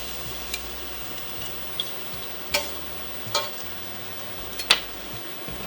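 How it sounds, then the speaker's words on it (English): Pressed garlic and a 5-ounce batch of fresh spinach cooking in a pan give a faint, steady sizzle, broken by a few sharp ticks and clicks of a utensil. "I'm going to press 1 clove of garlic into that to cook with it"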